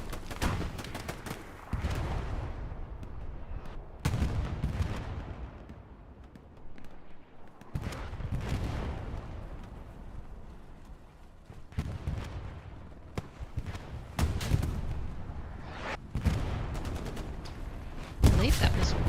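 A rocket strikes an M4 76 tank in the WWII shooter Hell Let Loose on the Omaha map, heard as a sharp blast among repeated distant booms and scattered gunfire across a long battle scene.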